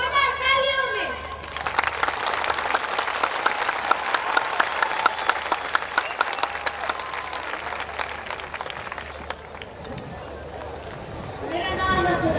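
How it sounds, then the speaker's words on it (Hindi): Loud applause and cheering from a crowd at a PTI political rally in Karachi, a dense burst of clapping rising after a brief voice and fading as talk returns near the end. "आप में से किसके अंदर दम है वो दिखाए अपना दम जोरदार तालियों में"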